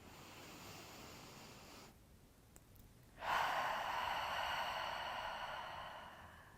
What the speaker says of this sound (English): bring in a few settling, landing breaths